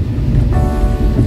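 Heavy rain pours steadily in Minahasa, a dense, loud hiss of water falling close by with no voices over it.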